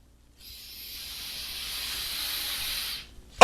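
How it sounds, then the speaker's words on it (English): A deep breath drawn in steadily and held at the top, a soft airy hiss swelling gradually for a few seconds alone, then stopping abruptly before a loud sound at the end. "you'll take a nice big deep breath, you hold it at the top"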